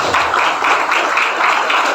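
Audience applause at a pesantren gathering, a steady wash of clapping from many hands that keeps going throughout, fairly loud and even.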